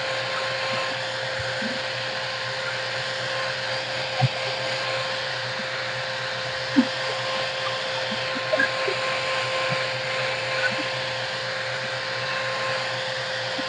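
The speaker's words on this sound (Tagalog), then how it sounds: "Ginagamit ko na yung blower." A 5-in-1 hair blower and curler runs at a constant whine with a steady airy roar, close to the mic, with a few small clicks and bumps along the way and no clear talk over it.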